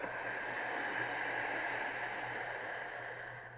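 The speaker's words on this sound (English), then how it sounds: "Ujjayi exhale out the nose." An audible Ujjayi yoga exhale out through the nose makes a steady, breathy, ocean-like hiss. It is close and sustained for several seconds, fading slightly at the end, with no talking.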